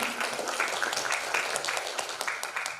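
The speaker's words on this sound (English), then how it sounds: "Give applause to Ibu Dian." An audience at an international student conference applauds, a steady patter of many hands clapping together for a few seconds.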